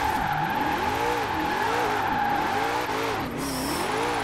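A 2020 Ford Shelby GT500 is driven in the racing game Forza Horizon 4, its engine revving and droning loudly and steadily with repeated rising and falling pitch sweeps as it shifts gears and accelerates.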